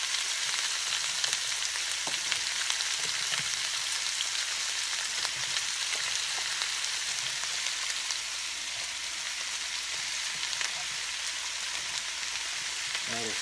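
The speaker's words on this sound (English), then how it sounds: "I like to do the onions and mushrooms first, just because it smells really good." Onions and mushrooms sizzle and fry steadily in a pan with a dense crackling hiss and occasional stirring clicks, close and continuous, with no talk.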